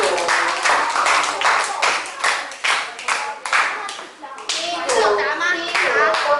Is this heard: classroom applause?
yes